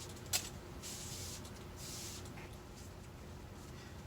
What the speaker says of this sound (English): And now, spray it down with our bleach solution,